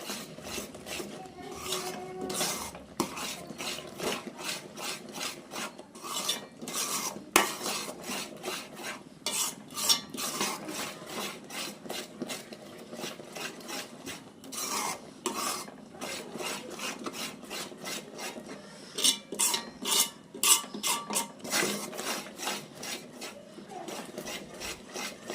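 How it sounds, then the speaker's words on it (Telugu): A spoon scrapes and rubs steadily through thick cashew burfi mixture as ghee is worked in, in a continuous rasping rhythm close up in a pan, with no talking. "నెయ్యినంతా ఇందులో మిక్స్ చేసుకుంటూ కలిపేసుకోవాలి"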